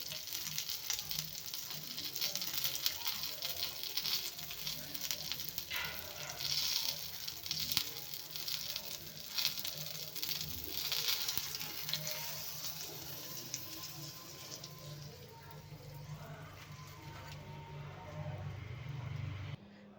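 Bangda mackerel fish shallow-frying crisp in a pan, a steady close sizzle and crackle of hot oil running throughout with faint clatter, then cutting off at the end.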